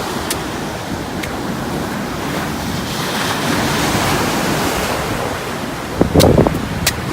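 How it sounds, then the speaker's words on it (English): Ocean waves wash onto Jimbaran beach in Bali in a continuous broad roar, with wind buffeting the microphone and a few sharper rushes of surf near the end. "here we are in Bali, in a very beautiful and gorgeous beach"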